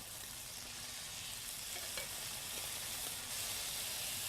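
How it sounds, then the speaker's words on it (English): Steaks sear in a hot pan with a dense, steady sizzle that stays even throughout. Close but fairly quiet, with no speech. "Check on my steaks. They don't need to cook completely through. I just want to get a nice sear on them."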